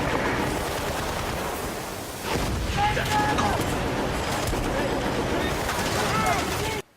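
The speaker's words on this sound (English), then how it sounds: "There's a mounted machine gun there that comes in handy." Mounted machine gun in the Battlefield: Bad Company video game firing dense, sustained bursts amid booming battle noise, with voices under the gunfire.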